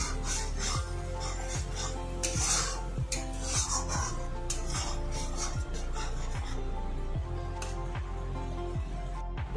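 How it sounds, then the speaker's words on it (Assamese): Yogurt being stirred into a spice mix in a pan, a continuous scraping and rubbing with regular strokes about every second, close and steady, with no talk. "দৈ দিয়াৰ পিছত লাৰি চাৰি এইখিনি মানে মছলাৰ লগত ভালকৈ মিহলাম"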